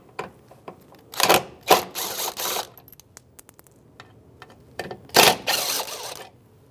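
T27 socket wrench loosening the bolts on a 1997-2006 Jeep Wrangler bumper end cap, heard as close, separate bursts of quick ratcheting clicks with short quiet gaps between them.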